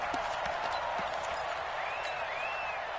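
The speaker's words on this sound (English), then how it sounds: "The crowd here in the Dome making things difficult." Steady crowd roar fills a domed stadium during an NFL football game on a third-and-goal play, a dense continuous wash of cheering and noise with no clear pauses, loud throughout.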